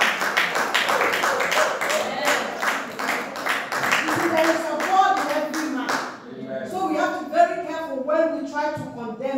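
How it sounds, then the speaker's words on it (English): An audience claps for a husband being honored, dense steady clapping filling the first six seconds before thinning into a few scattered claps under talking and a voice. "Please clap for my husband"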